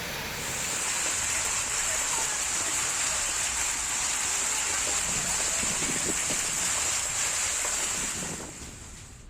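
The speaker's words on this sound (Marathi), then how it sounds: "वाळवा तालुक्यातील वारणा पट्ट्यात अवकाळी पावसाच्या सरी कोसळल्या" Unseasonal rain showers falling in the Warana belt of Walwa taluka make a steady, dense hiss that runs unbroken for several seconds, with a thin high whine riding on top, before fading slightly at the end.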